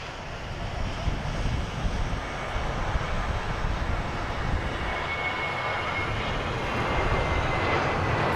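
Ryanair airliner rolling for takeoff at Manchester Airport, a steady, broad jet-engine roar heard from a distance that holds evenly and swells slightly toward the end, with no voices.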